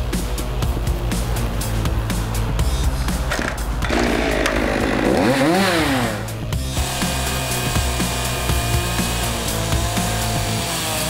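A chainsaw's petrol two-stroke engine runs loudly and steadily, with a rising and falling revving sweep midway through the continuous buzz.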